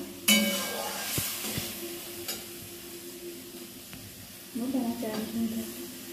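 Water splashes into a pan of sizzling egg curry, setting off a sudden hissing burst, then a quieter simmering sizzle with a few utensil clicks and taps.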